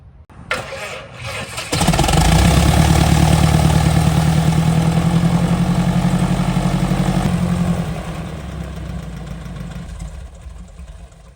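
Engine on an affordable twin-engine plane cranks and catches, swelling into a loud, steady mechanical drone with rhythmic pulsing, then settling lower toward idle before easing off near the end.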